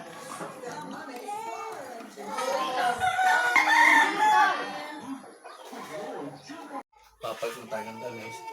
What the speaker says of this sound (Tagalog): Tapos na tayo magpakain ng ating mga alagang manok.